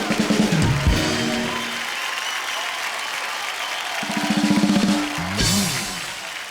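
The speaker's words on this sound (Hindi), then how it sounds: "तालियां।" Studio audience applause on a Hindi comedy talk show, a steady broad wash of clapping running the whole time, swelling near the end, with bursts of music-like tonal sound underneath.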